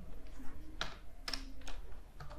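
Soft, close keystrokes on a computer keyboard while code is typed, a few sparse taps and clicks with short pauses between them over faint room noise.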